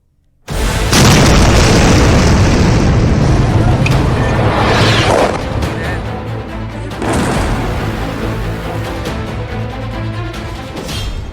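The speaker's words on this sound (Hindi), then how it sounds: "ब्रह्मोस मिसाइलों ने किए एयरबेस तबाह।" BrahMos missile strikes explode on a Pakistani airbase: a sudden loud blast bursts in, then a heavy rumbling roar follows and swells again partway through before slowly fading.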